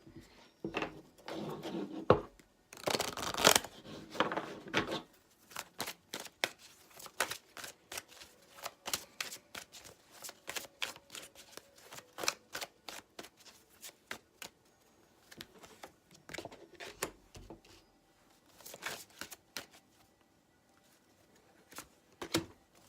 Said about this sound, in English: let me just finish laying out all the cards